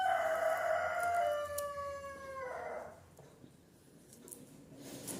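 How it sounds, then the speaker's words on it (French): A single rooster crows close by, one long harmonic cock-a-doodle-doo that fades out, followed by quiet outdoor background. "C'est mon coq que vous entendez là."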